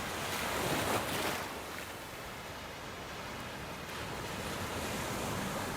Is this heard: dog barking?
no